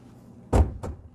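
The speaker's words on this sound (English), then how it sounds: "I'm going to pop the hood" Hood of a 2022 Rolls-Royce Cullinan being released, a sharp close latch thunk followed a quarter second later by a softer second clunk, with no talk.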